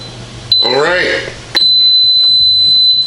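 A NuWave Jubilee smokeless indoor grill gives off a loud, steady high-pitched electronic beep tone that starts abruptly and holds, with a person talking briefly just before it begins.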